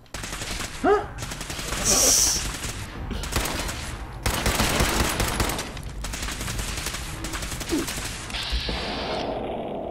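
Bursts of automatic gunfire and single shots crack through a firefight in the video game Fallout 4, mixed with game effects and excited players' voices.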